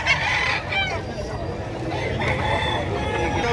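Chickens cluck and a rooster crows amid a busy chicken market in Padre Garcia, Batangas, with people talking in the background throughout.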